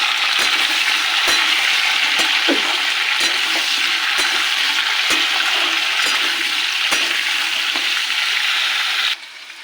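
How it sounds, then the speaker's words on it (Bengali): Beans and pumpkin fry in a wok with a dense, steady sizzle, punctuated by regular scraping or stirring knocks, close and loud until the sizzle drops off near the end. "শিম আর কুমড়োটাকে এবার ভেজে নেবো"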